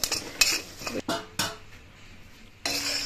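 Fox nuts (makhana) are stirred in a pan with a metal spoon, giving several sharp clinks and scrapes at close range over a faint frying sizzle, with quiet gaps between strokes.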